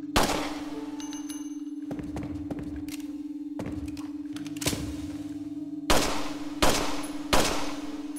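Gunfire in the survival-horror game Resident Evil 3.5 Code Madman: about seven sharp shots spaced irregularly over a constant low in-game hum, with the last three louder and closer together.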